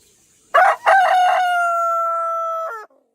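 A rooster gives a single loud, close crow: two short opening notes, then a long drawn-out call that ends in a brief falling tail, with silence before and after.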